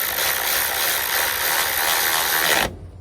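An electric ratchet tightens bolts on billet LS coil covers, a loud continuous mechanical buzzing whir running close for over two seconds before cutting off abruptly.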